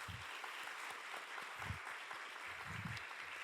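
A church congregation gives soft, steady applause for the children at a scholarship ceremony after a family dawn-prayer week, heard as faint, distant, even clapping with a few low thumps.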